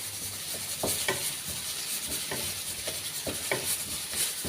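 Jackfruit seeds and drumstick pieces being sautéed in a pan for a Kerala thoran, with a steady soft sizzle and repeated scraping stirs of a spoon against the pan, close and without speech.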